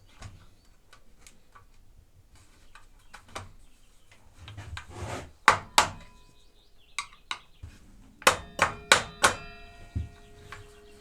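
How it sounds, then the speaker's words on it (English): Metal clanks and taps as a hammer knocks a part loose on a MacAllister 1500W 210mm sliding mitre saw, building to a run of sharp, ringing hammer strikes near the end, with no talking. "good old trusty hammer. It just needed a bit of persuasion."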